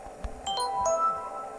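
A short text message alert chimes in Five Nights at Freddy's 2, a few bright, high electronic tones over a low, steady game ambience.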